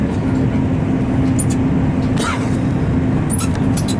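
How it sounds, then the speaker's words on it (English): A train runs inside the Channel Tunnel beneath the English Channel, giving a loud, steady low rumble and roar with a constant hum and occasional high squeals and hiss. "Train's starting to dip down, so we are now heading under the English Channel."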